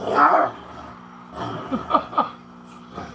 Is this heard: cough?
no